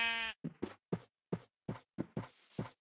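Sheep in Minecraft give a run of short bleats, about eight quick calls in irregular succession, close and clear with brief silences between them.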